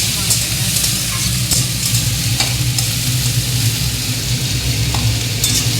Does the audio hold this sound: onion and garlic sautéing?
yes